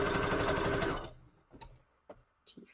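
A sewing machine stitches a paper junk journal page, running in a fast steady hum for about a second, then stopping, followed by a few soft handling clicks and rustles.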